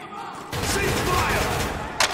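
A sudden burst of rapid gunfire in Spec Ops: The Line erupts after a quiet moment and keeps rattling loudly, with a sharp thump near the end.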